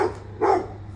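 Dog at a child's first birthday party giving two short, moderately loud barks a split second apart, with no talk over them.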